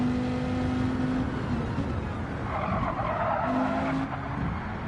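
Gr.4 race cars in Gran Turismo 7 during an online series race: a steady, loud engine drone with shifting pitch and bursts of tyre squeal, no talk heard.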